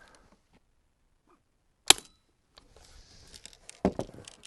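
A Daisy 880 multi-pump pneumatic airgun fires a single sharp crack partway through, and a second, duller impact follows a moment later against a quiet background.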